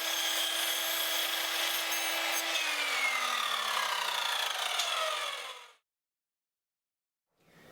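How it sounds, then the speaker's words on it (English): A handsaw cuts through a pine board in a van build workshop. Fast, continuous rasping strokes run for several seconds, loud and close, then stop abruptly into silence. "While the glue is drying, I'm just going to cut down my next board."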